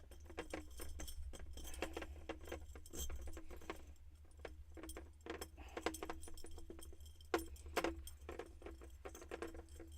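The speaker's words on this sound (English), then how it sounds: "I like the little clackety clack noise." Small metal charms clinking and jangling against a wire incense holder, a light, irregular clackety patter heard up close and fairly faint, with no talking.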